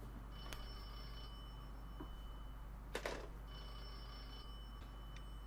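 Telephone bell ringing indoors, with several phones going off in a home. The ring comes in two long bursts with a pause between them and is fairly faint under a steady background hum, with a brief clatter in the middle.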